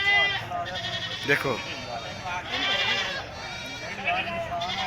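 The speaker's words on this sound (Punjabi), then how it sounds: "ਇਹ ਕੁਰਬਾਨੀ ਦੇ ਥੋੜੇ ਬੱਕਰੇ ਵਾ" Goats sold for sacrifice bleat repeatedly at a busy livestock market in Burewala, Vehari district, their close, wavering cries overlapping with steady nearby conversation.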